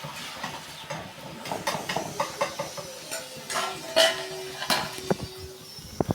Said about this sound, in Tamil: இப்போ நான் முட்டை ஊற்றுற நேரம்